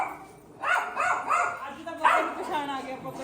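A household dog barks and yips in greeting, a few short bursts spaced about half a second apart, close by and mixed with people talking.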